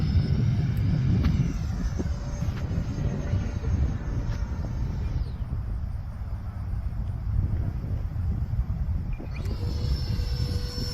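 An FMS Futura 64mm electric ducted fan model jet flies by with a steady whooshing turbine whine that rises and fades as it passes, over light wind at a flying field.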